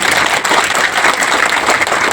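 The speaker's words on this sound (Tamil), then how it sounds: "கைதட்டு, நல்லா கைதட்டு." An audience applauding at a 2026 calendar launch and road safety awareness event, a dense, steady round of clapping from many hands, loud and continuous for a couple of seconds.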